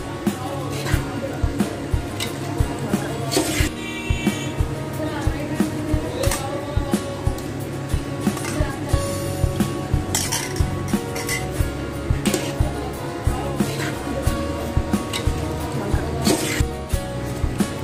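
Steel utensils clink and scrape against a pot or bowl as rice, salt and yogurt are mixed for chicken biryani, a steady clatter with busy background noise throughout.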